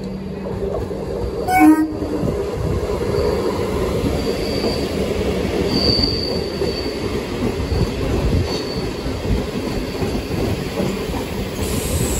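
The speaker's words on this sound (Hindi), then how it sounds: "पैसेंजर ट्रेन आ रही है यहाँ पे, विरार भरूच पैसेंजर ट्रेन" The Virar–Bharuch passenger train arriving at a station: loud, continuous rumble of rolling wagons with wheel squeal and a brief horn blast near the start, all close and dominant.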